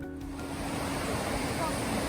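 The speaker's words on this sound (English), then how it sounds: "The river's down here, it's really pretty." River water flowing through a mossy forest valley with giant trees, a steady broadband rush close by that fills the whole clip with no break.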